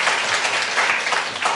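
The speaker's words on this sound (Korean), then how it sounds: "박수 부탁드립니다." A seminar audience claps steadily, a short dense burst of many hands applauding together at even loudness throughout.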